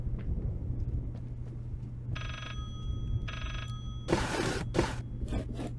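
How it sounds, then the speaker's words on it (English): A telephone rings in the Layers of Fear video game, two short electronic ring bursts followed by sharp louder knocks and thuds over a steady low hum. "Where's this phone at?"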